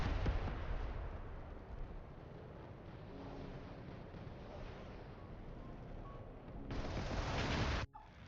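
Sustained heavy gunfire and explosions fill a vehicle battle in the game Metalstorm, dense and continuous at close range, with a sharp louder burst near the end before cutting off abruptly.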